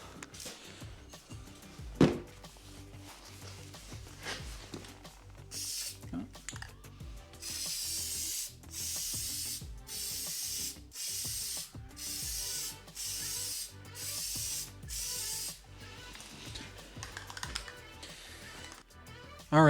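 Aerosol spray paint hisses onto truck badges in repeated bursts of a second or so each, separated by short pauses, with scattered clicks and handling noises around them.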